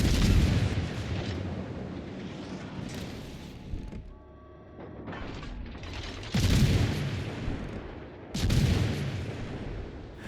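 Bombs exploding in the World of Warships Legends naval video game, heavy booming blasts rolling over dense rumbling battle noise, with a brief quieter gap before two more loud explosions.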